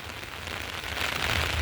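Heavy rain pours outdoors in a thick, loud hiss of drops that swells slightly toward the end, with no talking.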